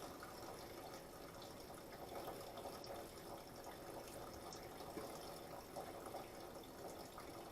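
Water pours steadily from a container holding a couple of gallons, tipped slowly onto an already wet floor, making a continuous close, soft splashing trickle with no talk.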